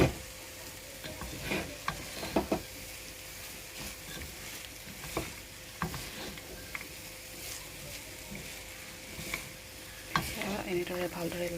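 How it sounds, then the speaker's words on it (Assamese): Zarda rice being stirred in a pan with fried cashews, coconut and raisins, a steady soft sizzle under intermittent scraping and clattering strokes of the spoon, close and moderately loud with no talking. "এনেদৰে ভালদৰে লৰাই দিব"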